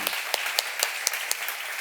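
Church congregation at a Korean seminar clapping together in a steady rhythmic beat, about two claps per second, sharp and fairly near over a bright hiss of room noise.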